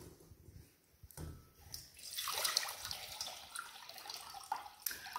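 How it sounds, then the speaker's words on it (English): Cold water pours from a tap into a saucepan in a kitchen, a steady rushing splash that swells louder and fuller as the pan fills, heard alone without speech. "I pour some cold water into a saucepan"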